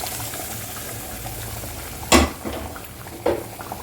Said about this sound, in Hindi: ये हम तड़का लगाने लगे हैं